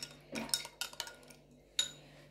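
Homemade red face mixture stirred in a bowl, a few light clinks and scrapes of a spoon against the dish, quiet and close, no talking.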